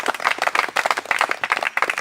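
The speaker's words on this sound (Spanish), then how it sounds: "Bríndale un aplauso al Señor" A church congregation at a Spanish-language worship service applauds the Lord, a dense, steady patter of many hands clapping close by, sustained for the whole stretch without pause.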